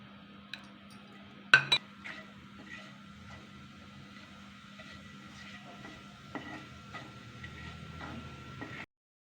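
Whole spices (cinnamon stick, two bay leaves, a teaspoon of shahi jeera) frying in oil in a pan give a faint, steady sizzle, with a sharp clink of a utensil against the pan early on.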